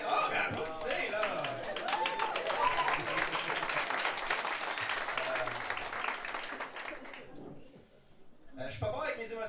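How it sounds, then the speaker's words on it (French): A comedy club audience at Cabaret Fightclub breaks into loud, sustained applause and clapping that fills the room for several seconds, then briefly dips before a final burst of clapping. "ben applaudissez"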